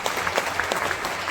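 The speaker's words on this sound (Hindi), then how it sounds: "मैं चाहूँगा एक बार अग्रवाल फैमिली के लिए जोरदार ताली होनी चाहिए।" An audience breaks into a burst of steady, dense clapping at an event honoring a family, continuous and fairly loud from start to finish with no speech over it.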